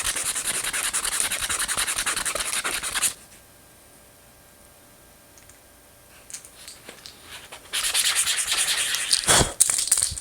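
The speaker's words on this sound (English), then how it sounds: "All right, I've got it sanded down." Abrasive rubbing of sandpaper on a handmade redfish fishing lure comes in two loud, steady scratchy passes separated by a quiet pause, close by and free of talk.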